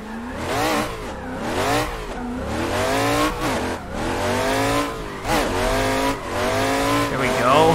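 A drift car in the Assetto Corsa racing game, set up for a Bushido Style drift competition, revs hard in repeated rising and falling surges with continuous tire squeal. The sound is loud and close, with a voice talking over it.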